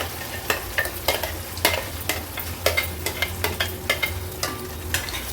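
Raw mango paste fries in hot oil as it is stirred, a low steady sizzle punctuated by repeated sharp scraping strokes of a spatula against the pan, close and without talk.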